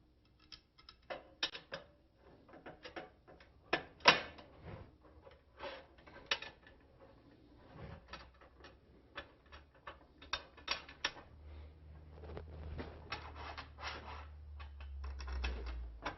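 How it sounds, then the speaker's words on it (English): A clamp sliding along the rail of a REVO framing kit, quiet irregular metallic clicks and scrapes in short bursts, with a low rumble building toward the end, no speech. "You can just slide the clamp back and forth to line it up with the locking plate"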